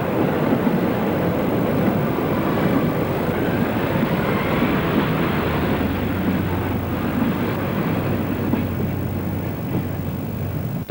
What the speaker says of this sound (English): Here, a regional railways train is seen approaching Grosmont from Whitby.